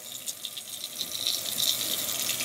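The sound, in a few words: wringing water out of a washed vacuum filter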